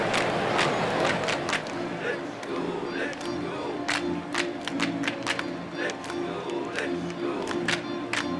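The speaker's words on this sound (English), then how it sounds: "I feel like the crowd noise is a little high" Crowd noise at a Hanwha Eagles KBO playoff baseball game forms a steady roar of many voices, with rhythmic claps and chant-like bursts running throughout.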